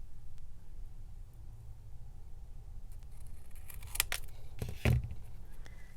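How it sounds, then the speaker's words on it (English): Scissors trimming paper for a junk journal pressed flower card, with a couple of crisp snips clustered near the end after a quiet, hissy stretch. "I'm going to trim some of this side off as well."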